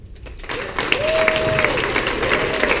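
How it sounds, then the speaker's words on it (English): An audience at the 2015 International Leather Sir Competition breaks into steady applause after a contestant's speech, building quickly and continuing as a dense patter with a few whoops. "Please give a warm round of applause to Southeast Levisser, Sir Michael."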